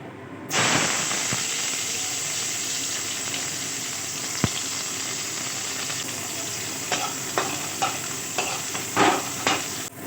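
Bitter gourd fries in hot oil in a kadai: a loud, close, steady sizzle and hiss, with one sharp click midway and a run of spatula scrapes and clatters toward the end.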